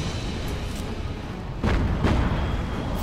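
Naval guns thunder during a WWII night battle at Surigao Strait in a naval combat game, a couple of heavy booms standing out over a steady loud rumble of fire.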